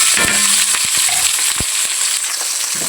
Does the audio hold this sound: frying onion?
yes